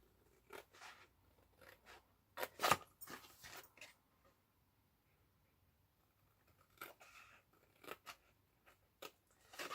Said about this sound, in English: cut down each of the straight lines through the first score line down to the second